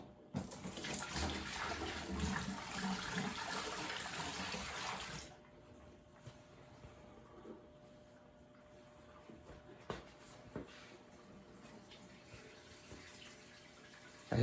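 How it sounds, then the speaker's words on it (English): Buckets of water poured into a laundry-room drain pump basin make a loud, steady rush for about five seconds before the flow stops abruptly. Quieter trickling and a few small knocks follow. "So it's going to take a couple of buckets of water to get that pump to turn on."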